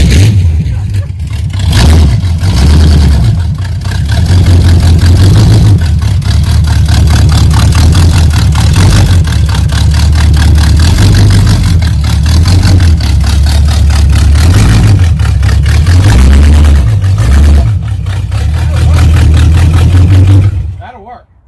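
The engine of a homemade 4x4 amphibious boat rumbles loudly and steadily as it drives on land, rising and falling in revs over a long stretch and then cutting off at the end.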